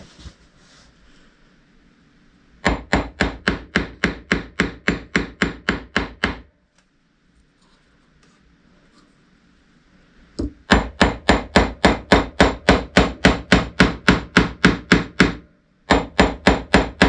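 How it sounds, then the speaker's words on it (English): A cross peen hammer taps texture lines into a metal pendant on a flat mandrel: rapid, even bursts of sharp close strikes with brief pauses between runs and no talking. "I am going to use a cross peen hammer and a flat mandrel and add in some texture lines."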